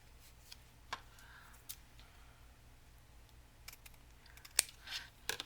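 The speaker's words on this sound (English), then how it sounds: "This is a little long, so let's see if I can trim that down." Scissors trim a paper belly band for a vintage book-page parcel, a few faint snipping clicks, scattered and quiet at close range with small handling noises.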